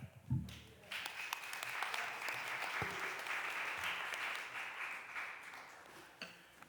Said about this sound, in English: I applaud Councilman Phillips for taking this very necessary step to protect our children.